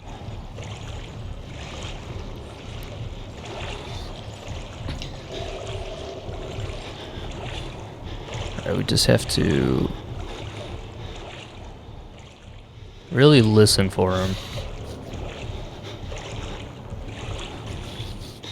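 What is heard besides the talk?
wading through deep water in the video game Outlast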